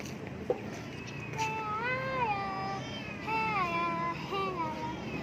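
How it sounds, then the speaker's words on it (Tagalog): A kitten meows repeatedly in a home, with several drawn-out, rising and falling mews at moderate loudness over a steady low background hum. "may kitten"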